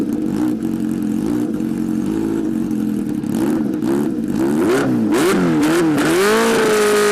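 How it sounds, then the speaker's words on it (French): A Kawasaki H2R superbike's four-cylinder engine idles roughly, then revs up and down in several sharp blips before holding a higher, smoother whine, loud and close. "S'en dégage un son très rauque et caverneux digne d'une moto GP."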